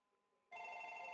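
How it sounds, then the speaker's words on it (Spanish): A landline telephone rings with a loud, steady electronic trill that starts abruptly partway through after near silence and continues to the end. "un ratito llaman por teléfono"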